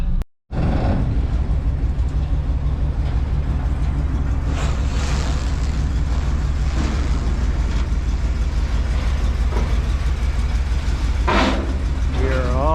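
An old turbocharged GMC truck idles and rumbles steadily as it backs off a trailer, a loud, continuous low engine drone with a few brief knocks and creaks along the way.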